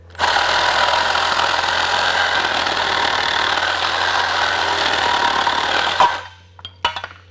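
A steady grinding saw drone cutting through a car's gas shock absorber runs for about six seconds, then cuts off, followed by a few sharp clanks in the quiet.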